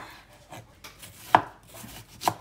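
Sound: chopping onion into thin half-moon slices

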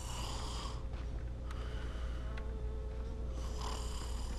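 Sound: person snoring in video game Dying Light

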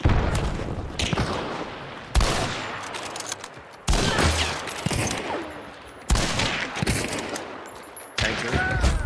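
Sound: gunshots in the video game Hunt: Showdown

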